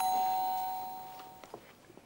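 A doorbell rings at night in an apartment, a single chime tone heard fairly clearly at the start and fading, with faint household noises after.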